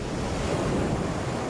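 North Sea waves surge in a continuous, dense roar of surf and wind, loud and unbroken, with no voices.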